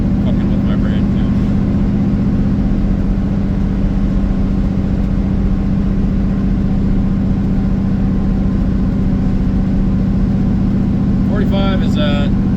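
A Buick 455 V8 engine runs at a steady 1800 RPM, a loud, constant droning hum with no change in pace across the stretch, and brief faint voices near the end.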